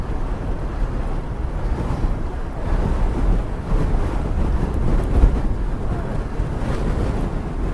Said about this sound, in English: Uphill into the wind.